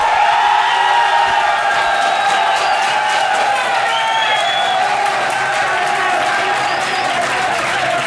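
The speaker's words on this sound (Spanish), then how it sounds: "Aplausos para Pink Edwards." A studio crowd claps and cheers for a contestant on a reality show, steady and loud applause with occasional whoops and a tonal voice or music layer throughout.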